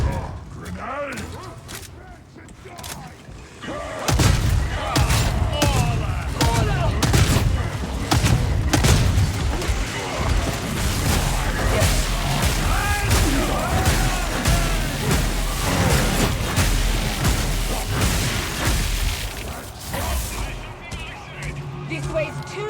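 A game firefight in Warhammer 40K: Darktide, with a grenade blast followed by dense, continuous gunfire, booms and mechanical clatter that stay loud throughout, voices calling out over the chaos.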